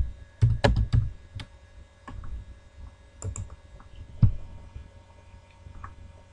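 Keystrokes on a computer keyboard, a few scattered taps and short bursts at close range with quiet pauses between them, no talking.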